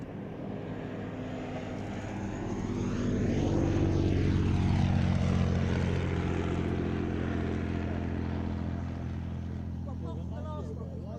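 A propeller aircraft, a two-seater type flying at the Shuttleworth air show, passes by with a droning engine that swells to a peak and slowly recedes, while a commentator talks over it.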